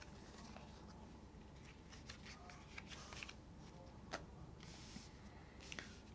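Cards are pulled and shuffled during a tabletop game, giving soft, steady riffling and light ticking clicks, quiet and close, with no voices.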